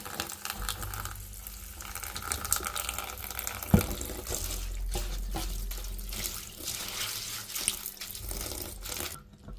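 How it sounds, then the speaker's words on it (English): Running tap water splashes steadily into a sink as herbs are rinsed under the stream before sun-drying, a close, continuous wash with small clatters and no speech. "So I'm gonna be washing them again"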